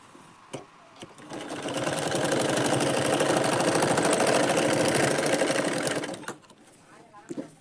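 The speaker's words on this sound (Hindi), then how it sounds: "यहाँ पर हम एक कच्ची सिलाई लगा देंगे।" Sewing machine running a long basting stitch along a blouse panel, a steady rapid mechanical whir that builds in, holds for about four seconds, then stops, with a faint thump or two before and after.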